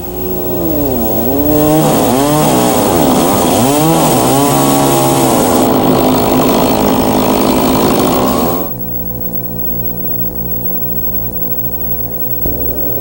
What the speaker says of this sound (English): Cut the end of the post about 150 millimeters longer than this measurement to allow material for the bottom tenon